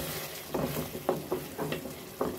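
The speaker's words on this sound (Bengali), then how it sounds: "পানি দিয়ে আবারও কিছুক্ষণ ভালোভাবে কষিয়ে নিব।" Dried fish cooks down with a little water in a pan for a dried fish and bean curry, with a low background sizzle and about five distinct scraping stirs at an uneven rhythm.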